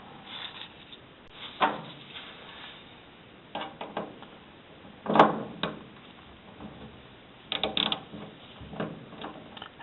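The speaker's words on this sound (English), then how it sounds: "and then I'm going to get a ratchet on it." Ratchet clicks and metallic clunks come from work on a bolt in an engine head, a few separate bursts of mechanical clicking with quiet pauses between them.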